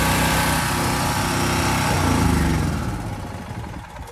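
Petrol generator engine running after carburetor repair, a loud, close, steady buzzing drone that softens and shifts slightly toward the end.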